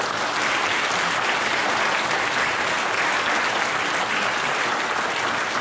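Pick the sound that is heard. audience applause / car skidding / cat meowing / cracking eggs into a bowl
audience applause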